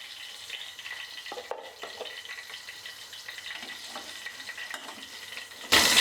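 Spices and Kashmiri red chili crackling and sizzling in hot oil for a tadka for chana dal, with light stirring scrapes, ending in a sudden loud burst of hissing.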